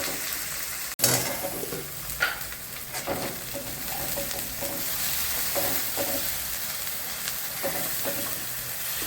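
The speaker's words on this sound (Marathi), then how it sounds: "छान परतून घेऊ आता" An egg dish sizzles and fries steadily in a pan, with a sharp clank near the start and scattered scraping stirs of a spatula over the continuous hiss; no one speaks.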